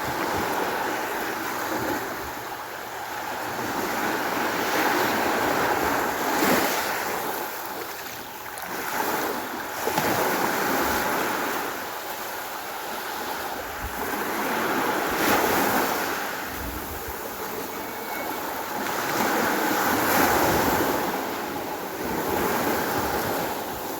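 Big ocean waves roll and wash around a fishing boat out at sea, a continuous surging roar that swells and recedes every few seconds, with wind buffeting the microphone.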